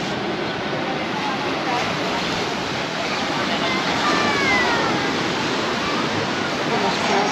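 Sea waves breaking at Sant Elm, Mallorca, a steady broadband wash of surf rolling continuously, fairly loud and close, with faint voices mixed in.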